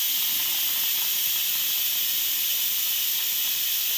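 Steam hisses steadily from an Instant Pot during a manual pressure release, a loud, continuous high rushing sound with no break for the whole stretch.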